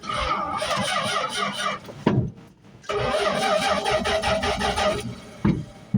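Abandoned 1978 Dodge short box truck engine running loud and rough, revving with a brief dip to near quiet around two seconds, then resuming steady broadband roar; dense, close, no talk over it.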